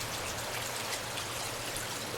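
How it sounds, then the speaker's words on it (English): The Smith River, rising in the rain, rushes in a steady, dense hiss of flowing water and falling rain, continuous and even in level with no voices. "River's starting to come up"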